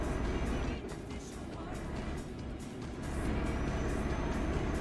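Road traffic in the Euro Truck Simulator 2 video game, on a road through Asia around Kuchlak and Kandahar, gives a steady, fairly quiet drone of vehicle engines and passing traffic with no clear gaps.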